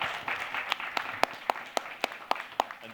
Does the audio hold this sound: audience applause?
yes